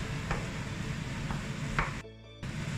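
Shrimp paste stirred into a sizzling mixture in a pan for a spicy Bicol Express, a steady close frying hiss with soft scraping strokes and a short quiet break, no talking.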